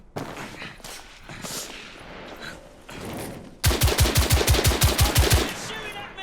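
Gunfire in the video game The Order: 1886, first scattered shots and battle noise, then a loud rapid burst of about a dozen evenly spaced automatic rounds close up.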